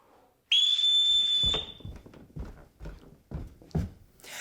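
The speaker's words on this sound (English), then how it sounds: "I will blow on this very obvious whistle, and my children will come down the stairs" A single loud, sustained whistle blast is blown indoors to summon children, followed by a run of heavy footsteps thumping down stairs.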